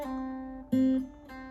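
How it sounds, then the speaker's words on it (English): Acoustic guitar gives a brief, quiet phrase of a few hammered-on and pulled-off notes on one string, close and alone, from a song tutorial. "I'm hammering on and pulling off."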